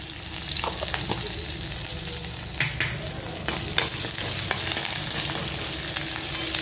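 Green chili, ginger and curry leaves sizzle steadily in hot oil for a fasting-style upma, with a continuous crackle and a few sharper pops and stirring scrapes close by, no voices.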